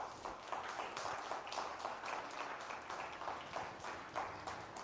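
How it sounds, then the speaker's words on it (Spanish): A church congregation claps in steady rhythm for the Lord during a Spanish-language sermon, the quick, even palm beats fairly faint and unbroken across the whole stretch, with no voices over them. "¿Cuántos le pueden dar palmas al Señor?"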